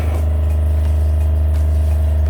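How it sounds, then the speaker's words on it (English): A water pump in an Iveco Daily campervan conversion runs with a loud, steady low-pitched electric hum and drone, close up and unbroken, with no voices. "But that's the water pump."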